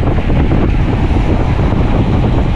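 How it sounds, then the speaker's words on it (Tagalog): Strong wind buffets the microphone in a constant, loud low roar that fills the whole clip without a break. "Lakas sa hangin."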